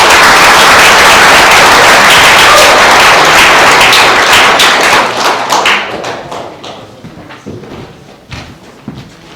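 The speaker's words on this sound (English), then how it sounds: "a round of applause for all our" At a community association annual meeting, a crowd claps loudly and close for award winners, a dense burst that thins after a few seconds into scattered individual claps fading out.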